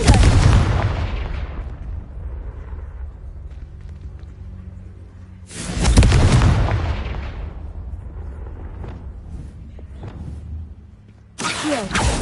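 Three heavy booming blasts of the Confringo spell in a wizarding video game, each a sudden loud explosive burst with a rumbling, fading tail, separated by quieter gaps with low background rumble.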